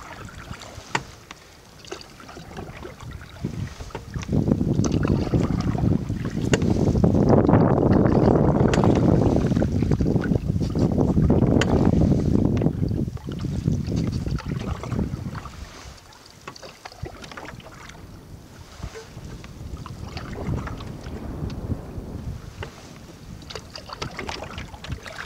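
A canoe paddled with the current on the Kipawa River, with steady water swash and rushing wash that swells and fades, mixed with wind buffeting the microphone.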